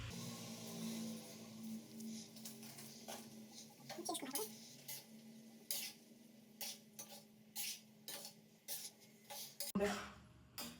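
Spoon scraping and stirring ridge gourd curry in a pan, with repeated short clinks and scrapes in irregular rhythm over a faint low simmer, close and fairly quiet, no talk.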